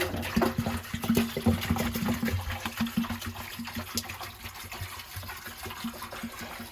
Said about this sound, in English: pour a half a gallon of antifreeze within the drum